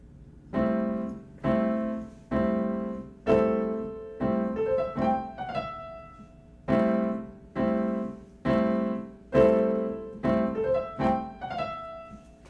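A clean guitar strums a series of separate chords, each ringing and fading, with short melodic note runs from the Greensleeves melody woven between them at a relaxed pace.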